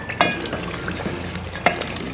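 A masala base for aloo gosht salan fries in oil, a soft continuous sizzle with two distinct spoon scrapes against the pot, close and fairly loud, no talking.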